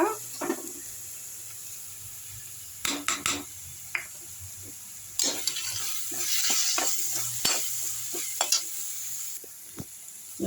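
Ginger garlic paste for pumpkin thokku sautés in a pan with a continuous high sizzle, punctuated by bursts of spatula stirring and scraping clatter, close and clear.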